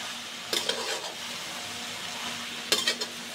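Chopped jute leaves stirred in a pan, with two short bursts of scraping and clattering against the pan over a low, steady background sizzle.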